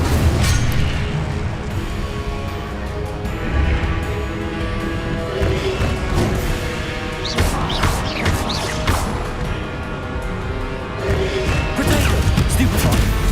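Spells cast in the Hogwarts Legacy game, including fire and blasting spells, land as repeated crashing and whooshing impacts with sharp cracks through dense combat noise, and a voice speaks in between.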